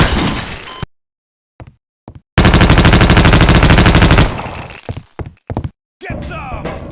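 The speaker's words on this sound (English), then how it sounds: "Rapid fire!" Loud, close bursts of rapid automatic gunfire from the Half-Life: Opposing Force video game, with a sustained stretch of machine-gun fire and shorter clattering bursts around it.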